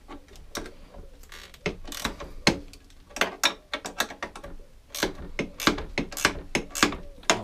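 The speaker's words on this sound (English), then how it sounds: "13mm spanner and ratchet." A ratchet and 13mm spanner clicking away on a Honda Izy scooter, with rapid bursts of close, sharp ratcheting clicks coming in uneven runs and short pauses.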